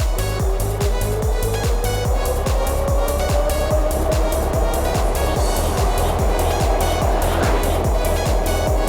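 An electric bicycle converted with a 72v hub motor kit climbs a long, steep hill at around 40 mph, loud rushing wind and a rising motor whine droning constantly, with a rapid rhythmic thumping underneath.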